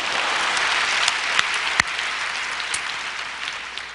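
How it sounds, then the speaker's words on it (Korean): A church congregation breaks into applause, a dense wash of clapping with a few sharp louder claps standing out, fading slightly toward the end. "박수 한번 쳐요"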